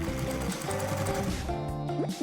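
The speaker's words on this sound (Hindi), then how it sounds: "मशीन पर सिलें।" A sewing machine stitching fabric, a close steady mechanical whir with a rapid needle rhythm and slight shifts in motor pitch, with no talking.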